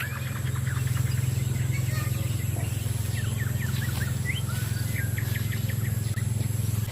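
Small birds chirp and tweet in quick scattered bursts at a quiet papaya farm, fairly distant over a steady low hum and faint insect buzz.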